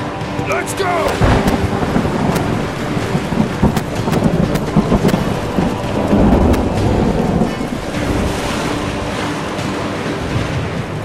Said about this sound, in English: like this storm has set us all off the course.